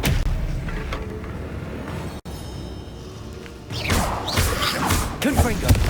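A disarming spell is cast in the video game Hogwarts Legacy, giving a heavy thud-like impact and crashing burst amid busy game effects, with a sharp cut partway through and dense clattering afterward.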